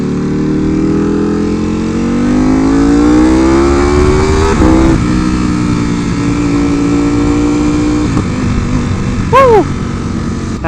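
A Ducati Superleggera V4 motorcycle being ridden, its engine note rising steadily in pitch under acceleration, then dropping at a shift and continuing at a loud, close, steady roar with wind noise.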